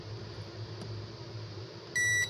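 A multimeter gives a continuity beep while testing the switch of a replica JBL speaker, a single short tone near the end over a faint steady hum.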